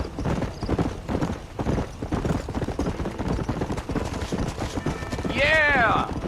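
Horse galloping in the Red Dead Redemption video game, rapid rhythmic hoofbeats with a loud whinny near the end, mixed with speech.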